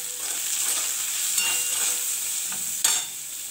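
Onions with turmeric and salt are stirred in a hot pan, a close, steady sizzle broken by a few sharp spatula scrapes and clinks against the metal.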